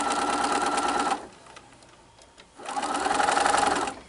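A Bernina sewing machine stitches a curve in fabric, two close, loud bursts of rapid mechanical whirring with a short pause between them, and no talking.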